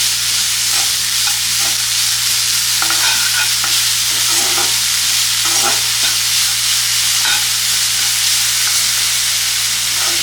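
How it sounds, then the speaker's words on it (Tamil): Jaggery and grated coconut stirred together in a hot pan while the jaggery melts, giving a steady sizzle with soft scraping strokes and a constant low hum underneath, close and continuous with no talk. "இது வெல்லமும் தேங்காயும் நல்லா மிக்ஸ் ஆகி இந்த வெல்லம் வந்து லைட்டாக அந்த ஹீட்லேயே மெல்ட் ஆகும்"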